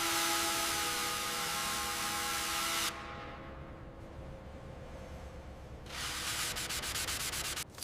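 Power sanding of yellow-tinted high-build epoxy primer on a Mercedes Titan X24 heavy truck cab, a steady close abrasive whir that drops to a quieter rubbing for about three seconds, then returns at full strength.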